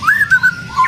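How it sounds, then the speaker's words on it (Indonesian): An Aceh forest magpie-robin, or murai hutan, gives a clear, loud whistled song of sliding notes in a few quick phrases, alone and close by. "Ini murai hutan, Om."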